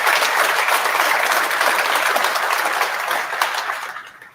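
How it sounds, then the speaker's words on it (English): Applause from the audience at a medical school white coat ceremony for the dean, a full, steady roar of many hands clapping that fades out at the end. "So I want to hand an applause for him"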